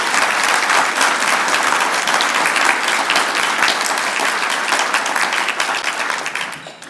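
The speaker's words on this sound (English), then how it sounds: "Can I please get a big round of applause for all these sponsors?" Loud, full applause from a breakfast crowd at the Spokane Police Foundation event, many people clapping in a sustained roar that fades near the close.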